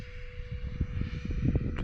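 Delta Airbus A320 jet engines during takeoff climb on a windy day, a steady muffled roar with a constant whine, heard from inside the cabin with faint rumbling knocks.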